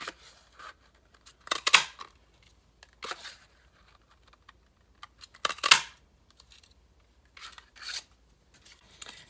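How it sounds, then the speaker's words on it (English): A paper sprig punch cuts sprigs from cardstock in several separate crisp, close crunches spaced a few seconds apart, with faint handling rustles between them and a quiet background. "Then I have my sprig punch"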